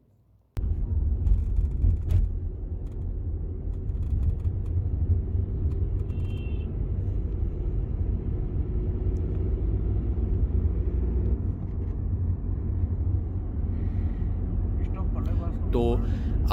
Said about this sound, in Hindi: देखा तो सनरूफ की आवाज़ आ रही थी हाईवे के ऊपर 50 की स्पीड में भी।